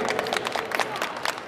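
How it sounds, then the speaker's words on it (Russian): Audience applauding the Angels of Hope ensemble after a sign-language song, a dense, steady wash of many hands clapping close by, loud and sustained throughout. "Ангелы Надежды, аплодисменты!"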